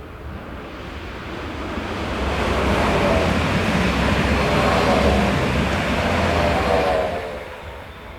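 A heavy freight train on a Swiss main line passes with 20,000 horsepower of locomotives at the head, a loud, steady rushing roar of wheels and wagons that swells to a peak mid-pass and then fades slightly, no voices.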